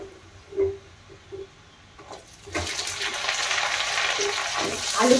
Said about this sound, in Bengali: আলুগুলো একটু দিয়ে একটুখানি হলুদ আর নুন দিয়ে আলুগুলোকে ভেজে নেব